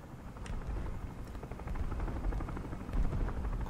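Enemy helicopter flying in a tank video game, a steady low rotor drone with distant rumbling and gunfire-like thumps, the noise holding fairly constant and swelling slightly toward the end.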